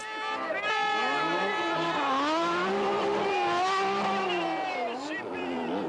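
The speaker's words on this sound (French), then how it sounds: "Nous sommes à bord de la Porsche de Jean-Philippe Desraux, qui se bat dans les échappements de la BMW de Marcel Tarès" An onboard Porsche battling close behind a BMW at the Chamonix 24-hour ice race, its engine roaring loud and near with rising and falling revs through gear changes, under a commentator's voice.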